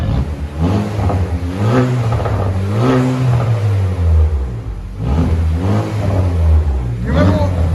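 A 2019 Chevy Malibu LT 1.5L turbo with muffler and resonator removed revs repeatedly, each throttle blip rising and falling in a loud, raspy drone close by; the engine carries the whole stretch.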